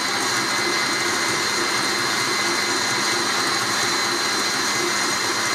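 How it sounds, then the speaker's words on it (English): A kitchen stand mixer churns cream into butter, giving a steady, loud, continuous whirring drone with a constant motor hum throughout and no talk. "it's still churning away in there"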